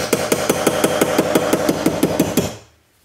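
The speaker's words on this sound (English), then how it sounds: "I'm going to go with the other side, the ball peen side of the hammer." A ball peen hammer strikes a reticulation silver cuff for a jewelry piece, landing about fourteen quick, evenly spaced, loud metallic blows in a steady rhythm that then stop abruptly, followed by near silence.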